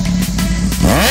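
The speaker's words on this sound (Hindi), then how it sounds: "अभी कुछ मतलब राइडर्स आ रहे हैं तगड़ी तगड़ी बाइक से ही," A powerful motorcycle on a Sunday highway ride revs hard up close, a loud continuous engine drone that climbs in pitch near the end of the short burst.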